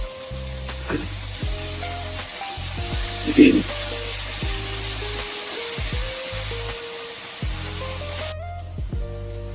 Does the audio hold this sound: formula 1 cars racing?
no